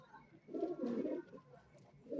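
Pigeons coo softly in a loft, giving a couple of low, rolling calls close by over quiet background noise, with no speech.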